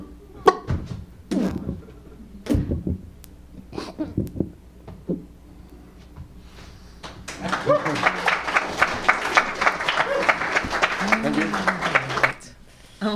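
An audience at the end of a live poetry reading breaks into applause that builds after a few seconds and holds steady, with scattered talk beforehand and a cheer woven through the clapping.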